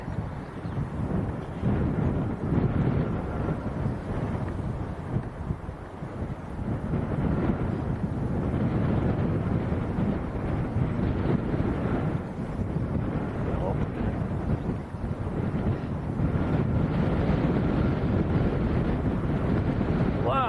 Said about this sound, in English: It's blowing a gale up here.